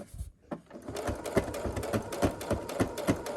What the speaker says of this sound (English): this is the last part of sewing that we need to do